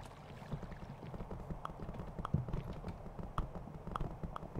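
Horse hooves clip-clop at a steady trot in the video game Kingdom Classic, a regular run of soft knocks over a busy background of game ambience.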